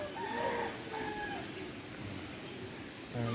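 A rooster crows twice at moderate distance over steady outdoor background noise, with a brief low thump near the end.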